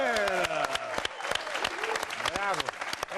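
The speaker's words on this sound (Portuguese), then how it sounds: "Uma salva de palmas." An audience on the Rockgol comedy football show claps in steady applause while loud, animated voices talk and shout over it.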